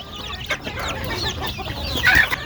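Hens and chicks in a poultry shed cluck and peep steadily at close range, a busy overlapping chorus with one louder squawk near the end, no talking over it.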